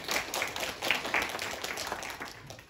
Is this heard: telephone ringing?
no